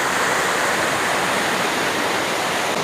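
Floodwater from the Singra river rushes past in a steady, loud, broadband roar, continuous and unbroken throughout with no voices.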